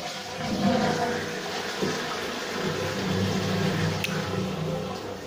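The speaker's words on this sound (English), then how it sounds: "Step three, flush the toilet." A toilet flushes, a steady rushing wash of water lasting several seconds at moderate level, with no talk over it.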